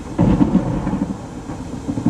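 Loud thunder rumbling through a storm during a Colorado landspout tornado outbreak, a deep rolling boom that swells near the start and keeps grumbling steadily across the whole stretch with no voices.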